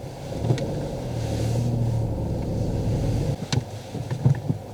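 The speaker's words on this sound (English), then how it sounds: "I'm going to turn the car around first" A car engine hums at low idle and pulls away slowly while turning around, with a few faint knocks and rattles near the end and no speech.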